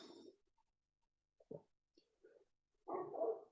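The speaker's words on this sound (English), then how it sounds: "But this dog could be quieter." A dog sitter's excitable dog lets out a few short, sharp barks and whimpery yips in a quiet room, with scattered bursts and a louder cluster at the end.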